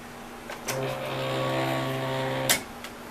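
A Silhouette cutting machine cuts a flock rhinestone template. A steady motorized whine with tonal harmonics runs for about two seconds between sharp mechanical clicks, close and fairly quiet.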